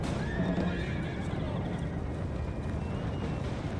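Cavalry horses in a Napoleon Total War battle, with loud whinnying and neighing over constant thundering hoofbeats and a dense battle din, all sustained and close.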